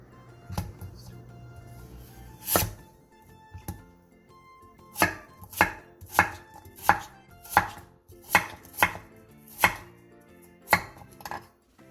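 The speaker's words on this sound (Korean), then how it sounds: "무 2cm 두께의 한 토막도 한 입에 먹기 좋은 크기로 잘라주세요." A knife chops a 2 cm thick piece of radish into bite-sized chunks on a cutting board, with a steady series of about a dozen crisp, close knocks at a regular pace.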